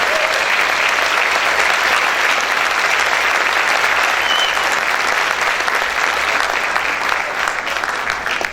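Loud sustained applause from a church congregation fills the room, a thick, even wash of many clapping hands that keeps going for over eight seconds before easing slightly at the end, with no voices standing out.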